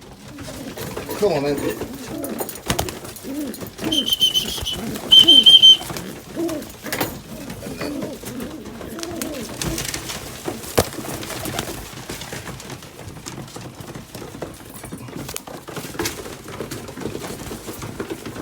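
Hungry pigeons coo softly at close range while being hand fed to tame them, with a few wing flutters and a person speaking quietly over them.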